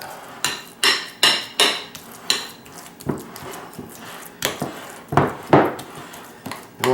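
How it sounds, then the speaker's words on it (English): Cooked pumpkin flesh, scraped from the rinds, being mashed smooth in a bowl, heard as a run of close, sharp knocks and scrapes of a utensil against the bowl, coming in uneven bursts roughly every half second. "we're gonna kind of mash it up in a bowl to where it's smooth."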